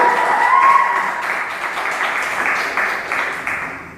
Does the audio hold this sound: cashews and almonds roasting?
no